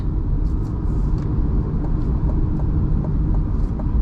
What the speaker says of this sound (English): Let me put ourselves in sport mode here when we do this little takeoff.